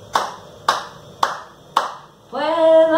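Four sharp hand claps at an even, moderate pace, close and distinct, followed by a sustained sung or tonal note with rich harmonics.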